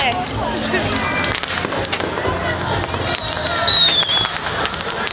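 Fireworks and firecrackers bursting in Chiang Mai, Thailand, a dense crackling barrage with sharp pops and a whistling rocket near the end, loud and close amid crowd noise and voices.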